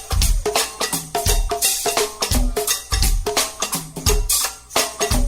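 A go-go band plays a pocket beat: punchy kick and snare hits, crashing cymbals and congas in a steady, syncopated groove, loud and full with no talking over it.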